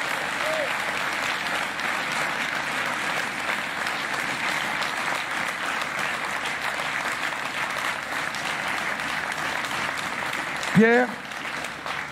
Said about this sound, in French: je demande qu'on t'applaudisse pour tout ce que tu as fait